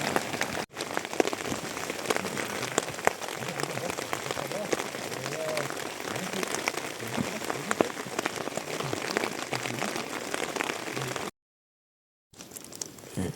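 Steady rain falls at night on a mountain hike and patters on surfaces close by, a continuous dense hiss that cuts out briefly near the end.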